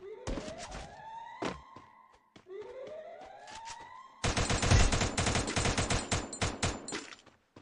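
Gunfire in the Free Fire video game, first scattered shots over rising siren-like whines, then a loud dense burst of rapid automatic fire lasting a few seconds before cutting off.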